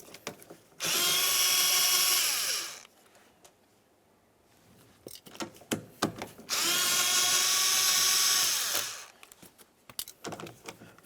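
A power tool drives out the mounting screws of a side mirror on a 1999-2003 Toyota Solara. Two loud bursts of whirring drill noise, each about two seconds long, are split by a quiet gap and followed by small clicks and handling sounds.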